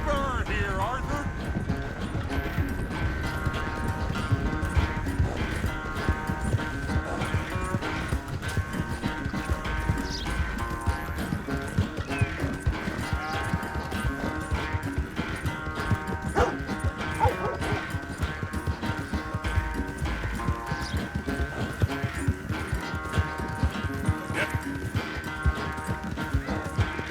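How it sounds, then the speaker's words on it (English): Horses galloping in a race in the Red Dead Redemption 2 video game, with steady, driving hoofbeats running throughout beneath voices and game sounds. "I've barely dug in a spur here, Arthur."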